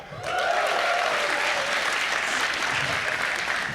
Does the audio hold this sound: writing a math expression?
no